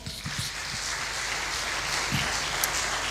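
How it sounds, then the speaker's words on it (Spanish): A church congregation applauds for the Lord, producing a dense, sustained wash of clapping that carries on steadily from start to finish. "Le damos un aplauso al Señor."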